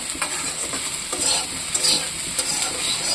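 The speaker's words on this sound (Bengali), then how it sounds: "আর এখানে সয়াবিন ভাজা করছি" Soybean chunks fry in a hot pan with steady sizzling and scattered scraping stirs, close up and continuous, with no talking.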